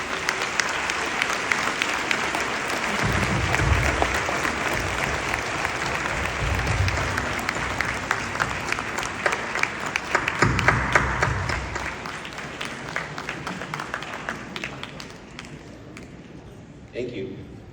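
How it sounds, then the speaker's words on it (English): A big commencement audience at De La Salle University claps loudly for the graduates' supporters. The sustained wash of applause swells near the middle and then slowly thins toward the end. "And give them the biggest applause you've ever given."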